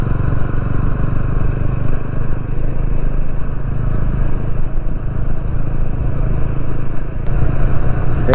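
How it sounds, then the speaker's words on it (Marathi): A vehicle drives along a ghat road winding through forest, its engine giving a steady, loud, continuous rumble with road noise and faint rattles, close up, no talk. "मजा वाटते गाडी चालवायला जरा."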